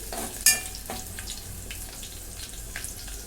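Garlic frying in a pan toward reddish brown makes a continuous close sizzle, opened by a sharp clink and followed by faint scraping and light watery touches, with no talking.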